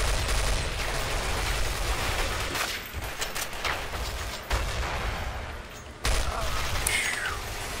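Gunfire in Counter-Strike: Source, a gun game match on a 200-tick server: dense, continuous rapid shooting with a few louder, sharper shots standing out, loud and close throughout.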